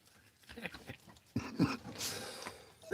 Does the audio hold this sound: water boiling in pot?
no